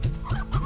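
Hens in the video game Slime Rancher give three short, clucking bursts close up, each a throaty little rising call with brief gaps between them.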